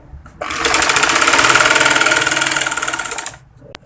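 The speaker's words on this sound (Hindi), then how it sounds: "आधे पैर की सिलाई से इसको बिठाते जाएंगे इस तरह से।" A sewing machine runs fast and steady for about three seconds while stitching a frock seam, a loud close rhythmic whirring with quieter handling noises before and after.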